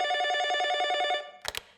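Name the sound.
telephone ringing, an aunt's phone call arriving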